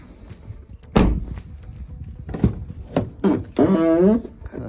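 Clunks and thuds of a 2016 Kia Soul Electric's door being worked, with a latch click and a creaking scrape as the rarely opened rear door swings open nearby.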